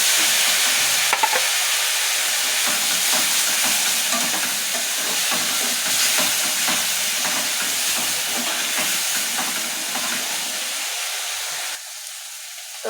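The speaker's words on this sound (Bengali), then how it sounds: "এখন দিয়ে দিচ্ছি এখানে ওই যে বলেছিলাম আদা বাটা, পেঁয়াজ বাটা, রসুন বাটা আর 2টা কাঁচা লঙ্কা বাটা" A paste of ground ginger, onion, garlic and green chili fries and is stirred in a pan, a loud, continuous sizzling hiss with scraping stirs that drops away abruptly near the end.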